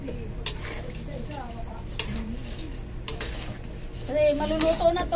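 A spoon stirs a pot of Bicol Express holding meat, Baguio beans and green chili, with soft scraping strokes and faint sizzling under a voice, and a bird chirps nearby.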